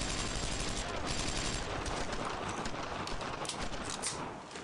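Suppressing gunfire in the Brothers in Arms video game: dense, continuous bursts of rifle and machine-gun fire that form a loud barrage, easing slightly at the very end.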